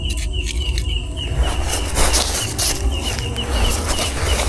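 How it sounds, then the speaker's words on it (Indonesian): Birds sing by a reservoir lakeside campsite at Waduk Selorejo, a repeated high chirping phrase over a steady outdoor ambience with low rumble, moderately close and continuous, with no talk. "Ada suara burung."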